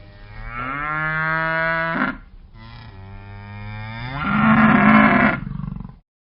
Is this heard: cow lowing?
yes